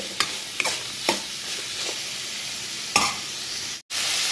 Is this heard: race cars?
no